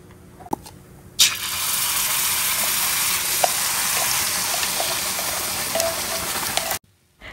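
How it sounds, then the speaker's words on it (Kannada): Tomato chutney frying in oil in a cast iron pan, an abrupt onset of dense, steady sizzling that holds evenly for several seconds before cutting off, preceded by a few soft clicks. "ಇನ್ನು ಎಣ್ಣೆಯಲ್ಲಿ 2 ನಿಮಿಷ ಫ್ರೈ ಮಾಡ್ಕೊಂಬಿಟ್ರೆ ಟೊಮೊಟೊ ಚಟ್ನಿ ರೆಡಿ ಆಗಿಬಿಡುತ್ತೆ"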